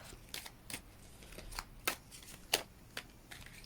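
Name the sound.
shuffling tarot cards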